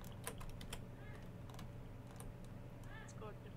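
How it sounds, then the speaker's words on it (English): Keyboard typing rings out in a video game as a run of quick, light key clicks at a steady pace, faint and set against low background noise, with a player's voice talking at times. "I hear the typing. Someone's around us."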